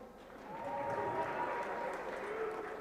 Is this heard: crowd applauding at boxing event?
yes